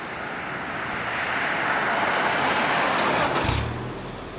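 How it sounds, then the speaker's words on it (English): A 1995 Honda Civic DX EJ2 with stock engine started by remote start: a rising wash of broadband rumble swells over a few seconds, then a brief low burst near the end as the engine catches. "let's check out this remote start that we installed in phase 1 of the build"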